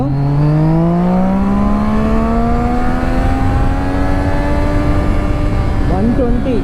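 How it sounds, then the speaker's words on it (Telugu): A superbike held in first gear revs steadily upward, its engine note climbing smoothly and loudly close by for several seconds, with a brief voice near the end. "ఒకసారి చూడండి, జస్ట్ ఫస్ట్ గేర్లో ఉంది బైక్."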